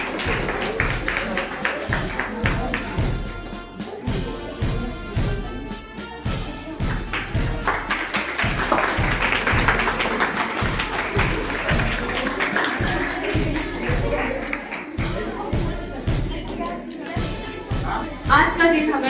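At an indoor Republic Day celebration in Kalkaji, New Delhi, a crowd keeps up steady rhythmic clapping to welcome guests, mixed with voices and hall noise throughout.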